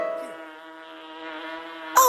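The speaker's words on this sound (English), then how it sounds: "Oh, look! It's a bee!" A single bee buzzes in a steady, close, tonal drone that wavers slightly, followed by a brief sharp sound at the very end; no speech.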